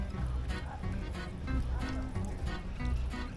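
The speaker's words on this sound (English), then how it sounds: "they have these little fountains, and the water is drinkable" Water runs from a small public drinking fountain on the Amalfi Coast in Italy, a continuous close splashing stream with a faint murmur of voices in the background.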